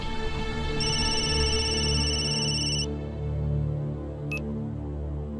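A telephone rings with a steady electronic tone for about two seconds, then a short chirp follows, all over a constant background hum.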